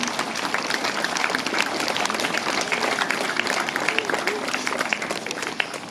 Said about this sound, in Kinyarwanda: ndagira ngo muntize amashyi dushimire aba baririmbyi ba Pueri Cantores.